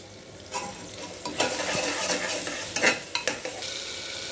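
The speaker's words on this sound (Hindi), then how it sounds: "अब हम इसके अंदर ये अदरक लहसुन की पेस्ट डाल देंगे, इसे अच्छे से हम भून लेंगे।" Ginger garlic paste frying in a pan for spicy chicken pulao, a steady close sizzle broken by several sharp stirring scrapes and clinks of a spoon against the pan.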